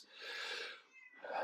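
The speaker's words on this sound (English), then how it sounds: "it's my cat in the background." A domestic cat meows in the background, two drawn-out calls close together, moderately loud with no talking over them.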